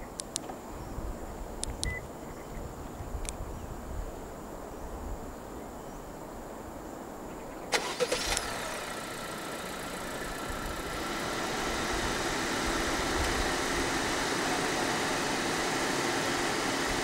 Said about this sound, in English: The FE Civic in Malaysia does come standard with a remote engine start system.